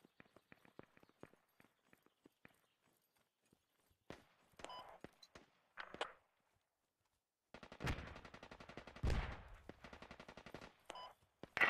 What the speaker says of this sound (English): Do you guys hear enemy fire coming from my east?